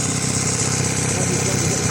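A Mercury 9.9 HP four-stroke outboard engine starts and runs steadily at idle after an impeller change, a loud, close, continuous mechanical drone with a constant rumble and no pauses.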